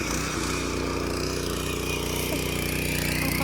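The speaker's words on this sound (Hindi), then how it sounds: "पापा ट्रैक्टर चला रहा है।" Tractor engine chugs steadily while working a farm field, a loud, continuous low mechanical drone with a throbbing rhythm and no pauses.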